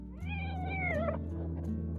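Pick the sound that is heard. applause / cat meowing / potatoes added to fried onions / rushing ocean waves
cat meowing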